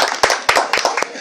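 Scattered clapping from a group, a handful of crisp claps over about a second, with lively voices talking beneath.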